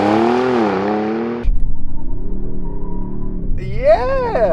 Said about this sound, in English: Here we go with the launch.